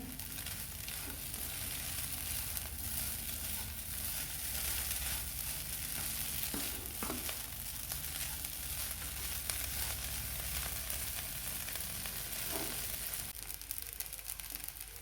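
Kurdai bhaji with fried peanuts and coriander sizzles steadily in a pan, a constant close frying hiss with a few faint stirring scrapes.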